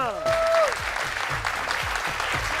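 A studio audience at a Punjabi game show applauds loudly and continuously. A brief rising whistle-like tone sounds near the start, and regular low thumping beats pulse underneath the clapping.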